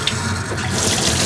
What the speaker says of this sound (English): Now I'm going to put some hot water in first